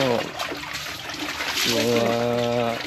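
Water gushes steadily out of a pump at a house construction site, a continuous rushing splash heard close by while someone talks over it.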